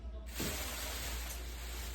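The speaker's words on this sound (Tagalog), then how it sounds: "Mag-i-spray tayo." Cleaner is sprayed onto an air conditioner, a sudden hissing spray that starts after a brief quiet moment and continues steadily and fairly close, with no talk.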